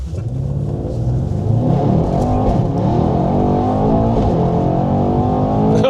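A Mercedes-Benz E63S Edition 1 engine roars steadily and loudly from inside the car during a launch, a deep rising drone of hard acceleration that holds throughout.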